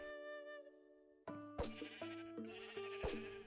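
Sheep on a video game farm bleat several times in quick succession, close and clear, after a brief sustained musical tone, with soft clicks between the calls.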